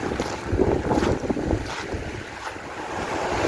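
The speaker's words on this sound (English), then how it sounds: "Just listen to the sound of those waves." Ocean waves washing ashore at Cayton Bay, a close, steady rushing surf with wind buffeting the microphone and a few surging swells.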